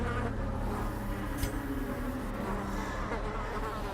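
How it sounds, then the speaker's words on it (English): Insect wings buzz in a dense, droning whine inside the dark fantasy game Darkest Dungeon, steady and close for the whole stretch, with no talk. "The maddening whine of multitudinous wings abates"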